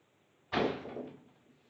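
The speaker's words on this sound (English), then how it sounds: "I just got to close the screen door." A screen door at a home with a doggy door shuts in a single close, sharp bang midway through the clip, followed by a short rattling decay in an otherwise quiet room.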